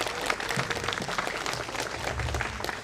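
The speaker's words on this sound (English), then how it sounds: "Let's all give it applause." A crowd at an outdoor run for persons with disability gives a fairly faint, steady round of applause over a rumbling low background, with no clear voices.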